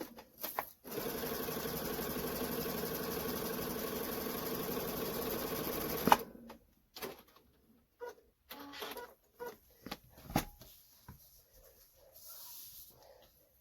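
A sewing machine runs in one continuous close burst while chain piecing quilt units for a dragonfly quilt, followed by scattered handling clicks and rustles with no talk.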